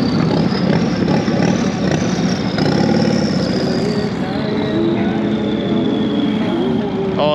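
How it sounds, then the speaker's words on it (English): A turbocharged motorcycle idles at a Daytona Bike Week street gathering, a steady loud engine drone running continuously through a busy outdoor crowd, with other traffic noise mixed in. "check out this turbo bike"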